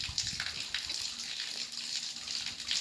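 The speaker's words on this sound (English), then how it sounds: "Valve is closed, water's refilling" Water refilling a backyard swimming pool in Yucatan, Mexico, a soft, steady splashing gush that runs continuously, fairly faint and close, with no talking.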